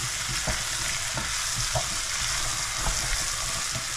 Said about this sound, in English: So onion added. So I turn it. My shallot onion.